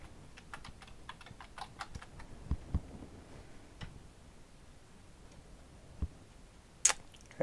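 Quiet, close clicks from a computer keyboard tap out a short word in a quick burst, followed by a few scattered keystrokes and a sharp click near the end.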